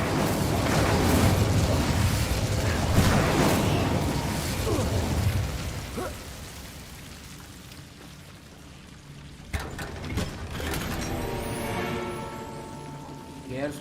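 A fire spell blast in Hogwarts Legacy gives a loud, broad burst of crackling roar in the opening seconds, then fades into softer rumbling with a few sharp pops and clicks toward the end.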